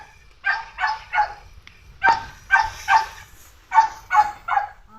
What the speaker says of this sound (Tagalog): Masusubok yung aso ni Mama Tinay, si Jack.